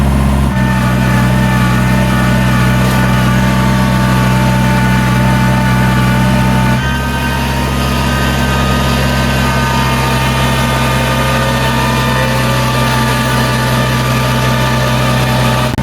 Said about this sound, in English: You gotta put the tractor in 4-wheel drive and in low gear to go up this hill.